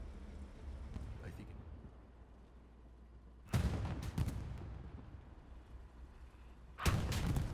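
Sherman and Panzer IV tank cannons trading fire in Hell Let Loose, two heavy booming shots a few seconds apart over quiet low rumble, with someone commentating.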